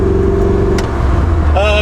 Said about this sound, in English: We started the car just a minute ago and it's got a misfire.